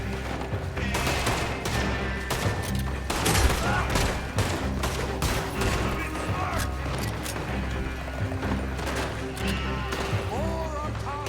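Gunfire in the video game Red Dead Redemption 2, a chaotic firefight of overlapping shots and cracks that runs steadily throughout, with people talking over the shooting.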